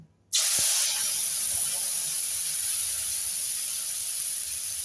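After a short quiet moment, a sudden loud hiss bursts in and continues steadily as cumin seeds, chilli, turmeric and ginger sizzle hard in hot oil.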